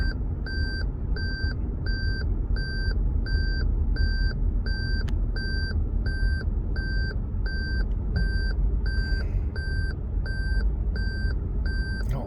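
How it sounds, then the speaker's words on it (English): Steady, evenly spaced electronic beeping from road work, heard from inside a moving Lexus GS350 3.5 V6 over constant road and engine rumble, the beeps repeating in a regular rhythm throughout. "And I gotta hear that beep all night."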